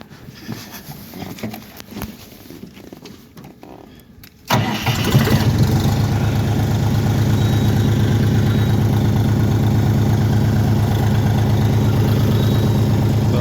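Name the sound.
DTZ 5354 mini tractor engine running smoothly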